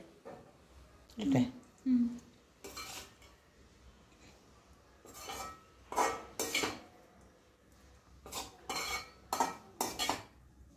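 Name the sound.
scooping mango pickle spice mix into vessel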